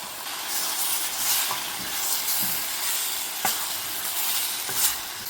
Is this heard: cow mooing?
no